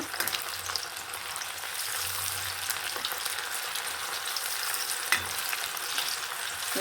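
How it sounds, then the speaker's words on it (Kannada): Avarebele mixture batter frying in hot oil, a steady dense crackling sizzle filling the whole stretch with a faint occasional stir or tap. "ಬಿಸಿಯಾಗಿದೆ ನೋಡಿ ಅದಕ್ಕೆ ಹಾಕ್ತಾ ಇದ್ದೀನಿ ಎಣ್ಣೆಗೆ"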